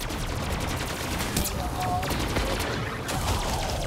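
Gunfire rattles in rapid, continuous bursts in a Call of Duty Zombies match on the Gorod Krovi map, with players talking over the shots.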